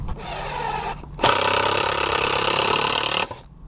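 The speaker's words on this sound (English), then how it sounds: "we're going to be pre-drilling all of our wood holes" A power drill whirs in two bursts, a short spin and then a longer steady run pre-drilling holes in wood for a potting table, with a faint hum between them.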